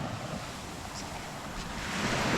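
Wind and surf at Mae Nam Beach on Koh Samui, a broad steady roar of waves with wind buffeting the microphone, swelling slightly louder toward the end.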